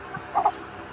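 A backyard hen that has been ill and stopped laying lets out two quick, close clucks in a short, quiet moment with no talking.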